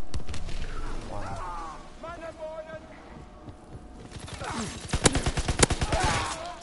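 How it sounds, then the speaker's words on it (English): MP40 submachine gun bursts in a World War II shooter, a rapid string of sharp cracks near the end after quieter stretches, with a player talking throughout. "one bullet from MP40"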